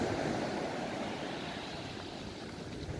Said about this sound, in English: I love the sound of the sea coming in.